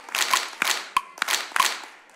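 A short run of crisp hand claps lands in an even beat, five or six close, bright strikes with no voices around them.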